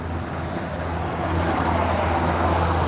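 An aircraft at Aberdeen Airport roars loudly and close, a steady broad engine drone that swells slightly over a few seconds with no talking.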